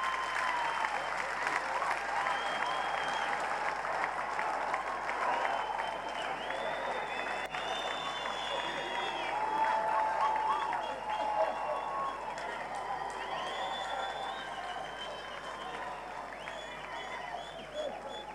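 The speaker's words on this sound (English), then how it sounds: "please clap your hands to me" Church congregation clapping hands together, a long, continuous wash of many hands at moderate volume, steady throughout with faint voices and murmurs mixed in.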